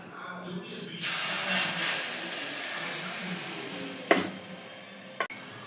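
Beaten egg masala omelette batter hitting a hot dosa pan, a sudden broad sizzle that swells and then holds steady, with a couple of sharp clinks near the end.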